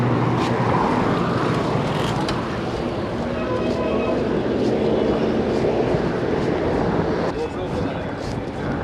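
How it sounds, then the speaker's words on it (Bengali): Cars passing fast on a busy town road in rain, heard as a loud, continuous rushing roar of traffic with no break, along with wind and riding noise. "এত ডান দিক দিয়ে এত জোরে গাড়িগুলো যাচ্ছে।"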